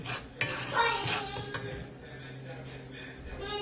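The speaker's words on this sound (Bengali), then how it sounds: "তো এবার সব কিছু একসঙ্গে করে আমি এটা একটু কষিয়ে নেব" Mustard hilsa fish curry being stirred in a pan: a few clinking scrapes of the utensil against the pan and a soft sizzle, with faint voices in the background.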